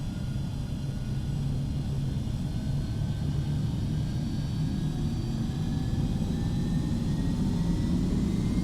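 Simulated jet engines of a Carenado Premier 1A in the Prepar3D flight simulator give a steady low rumble and roar with a faint rising whine, continuous and even throughout.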